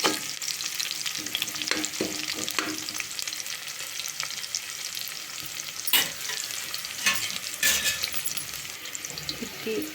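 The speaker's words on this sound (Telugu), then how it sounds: "ఇవి గోల్డెన్ బ్రౌన్ కలర్ వచ్చే వరకు మనం డీప్ ఫ్రై చేసుకోవాలండి." Vegetables for veg biryani deep frying in hot oil, a steady broadband sizzle and bubbling that runs the whole time with a few sharper crackles and stirring scrapes, close and moderately loud, with no voices.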